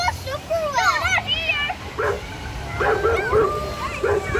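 A dog barks and yips repeatedly nearby in short, excited bursts, with people's voices and children audible around it.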